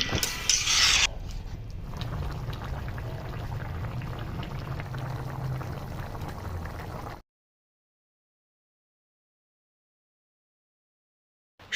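Water bubbling steadily in a pan of cauliflower curry, a close, even simmer lasting several seconds before cutting off to silence.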